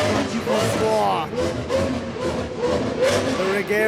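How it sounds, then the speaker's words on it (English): A Koenigsegg Regera hypercar accelerates at full throttle along a Mediterranean seaside road in Croatia, its engine note climbing loud and close, with voices nearby. "The Regera fully opened up."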